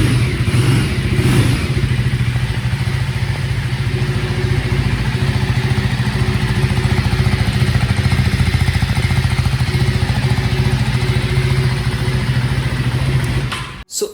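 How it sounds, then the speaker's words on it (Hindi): A 2025 KTM Duke 390 motorcycle engine runs steadily up close, its loud, continuous mid-range drone holding through revs before cutting off abruptly at the end. "So without wasting much of time let's start the bike."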